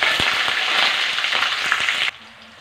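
Green chillies and tempering spices sizzle and crackle in hot oil for an onion fritter curry, a steady close frying hiss with small pops that cuts off abruptly near the end.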